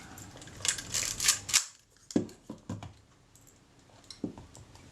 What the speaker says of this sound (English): Let's cock the shutter.